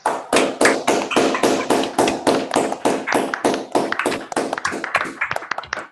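Small audience clapping after a conference talk at the Lean Together 2021 event, a close run of sharp individual claps in a steady, loud rhythm that thins and becomes more scattered toward the end, with no talking over it.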